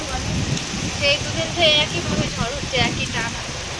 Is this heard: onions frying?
no